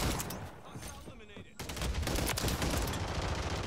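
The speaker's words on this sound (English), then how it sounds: "This is like a clunky AR, whereas the Sidewinder is more like a fully auto marksman rifle." Distant automatic assault rifle fire in the video game Call of Duty MW3, a steady chatter of battlefield shots that grows louder and denser partway through, with no clear speech on top.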